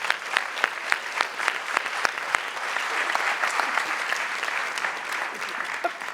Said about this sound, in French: je vous demande d'applaudir Alexis Gillot